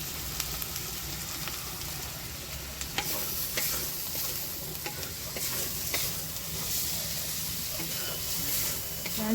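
Spice paste of onion, green chilli, ginger, garlic, turmeric and salt frying and being stirred in a pan for egg curry, a continuous close sizzle broken by scraping strokes from the spoon.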